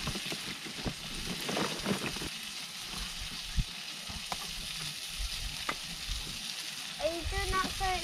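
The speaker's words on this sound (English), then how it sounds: "we're gonna have to just use the pan instead" Food frying in a pan over a fire at a farm campsite in Langdale, a faint continuous sizzle with scattered pops and crackles, heard alone.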